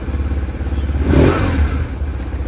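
1999 BMW R1100RT motorcycle engine, loud and close, a pulsing idle that swells into a strong rev in the middle and settles back to a throbbing idle.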